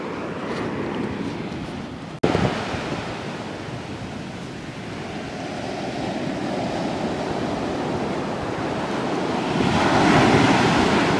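Storm waves crash on the shore of the south coast of Ireland in January 2014, a loud continuous roar of surf with a sharp thump early on and rising wind-battered surging toward the end.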